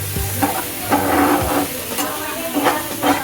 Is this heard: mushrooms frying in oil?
yes